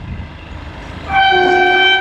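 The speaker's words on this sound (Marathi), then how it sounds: "हे बघा कोकण रेल्वे आली." A Konkan Railway train arrives at a station amid rain and wind, with a low rumbling approach and then a loud, sustained multi-tone horn blast close by. No one speaks.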